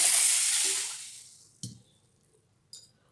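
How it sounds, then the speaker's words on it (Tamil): Water poured from a tap onto soaked green gram in a kitchen, a loud hissing gush that fades over about a second, followed by a few faint drips and small clinks, no voices. "இப்போ இதில் நம்ம தண்ணி ஊற்றி"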